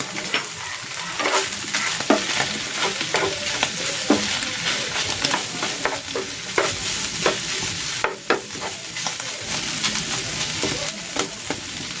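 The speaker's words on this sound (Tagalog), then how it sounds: "Ilalagay ko na dito itong tokwa." Small diced tofu frying in a pan crackles and sizzles steadily up close, broken by repeated sharp scraping stirs of a utensil at irregular intervals.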